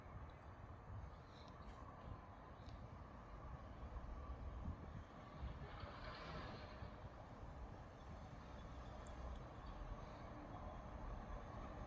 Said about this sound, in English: Arriving in now is the 12:47 Scotrail service from Edinburgh Waverley to Perth.